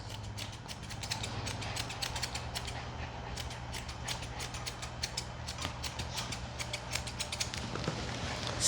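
Grooming scissors trimming a dog's fur in a rapid run of crisp, close snips over a steady low hum, with no talking.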